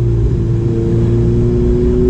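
A sports car with a 661 horsepower twin turbo V8 accelerates, its engine a steady, loud mid-pitched drone with firm harmonic tones that hold throughout a brief stretch, with no talk over it.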